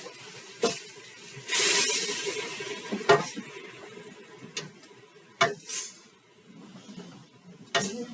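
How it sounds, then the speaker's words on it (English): A soft, steady sizzle of food frying in a pan, broken by a few sharp clinks and scrapes of a utensil against the pan. "Keep on letting it sizzle."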